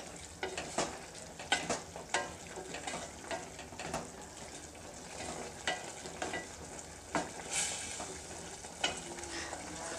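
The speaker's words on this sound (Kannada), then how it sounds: "ಬೀಟ್ರೋಟ್ ಹಾಕಿ 1-2 ನಿಮಿಷ ಇದನ್ನು ಚೆನ್ನಾಗಿ ಕುದಿಸ್ಕೊಂಡ್ರೆ ಸಾಕು" Quiet sizzling of beetroot cooking in a pan, broken by repeated scraping and stirring sounds at an irregular pace; no voices.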